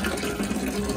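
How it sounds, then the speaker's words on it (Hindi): Tap water pours steadily into a container at home, a continuous close splashing rush with no pauses. "पानी भरना पड़ेगा"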